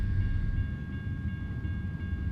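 A long freight train rolls past in American Truck Simulator, a steady, dense low rumble of wheels and rail cars that holds at an even loudness throughout, with faint high tonal lines above and no voices.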